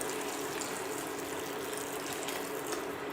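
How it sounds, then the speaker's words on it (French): Boiled water pours into a pan of food to cover it, a steady close rushing splash filling the whole short stretch. "On couvre d'eau."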